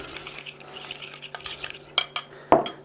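Spoon clinks and scrapes in a bowl as yogurt dressing with garlic, a squeeze of orange and fresh mint is stirred together, a few sharp taps standing out among soft mixing sounds.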